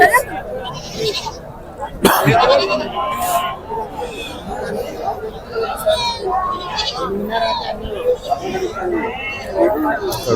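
Goats bleat repeatedly amid a busy crowd at Pebbair livestock market, their calls mixing with constant chatter and people talking close by in a noisy outdoor setting.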